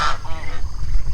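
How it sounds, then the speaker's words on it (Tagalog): Geese honk on a farm, with one short nasal honk up front and a fainter one after it, over low background rumble and noise. "Marami gansa dito."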